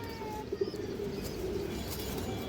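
A large old-breed Bagha hen pigeon gives a couple of soft, brief, low coos, faint against a noisy, rumbling background.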